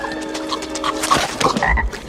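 Repeated frog croaks, a series of short bright calls spaced unevenly over about two seconds, play fairly loud over a faint background tone with no talking.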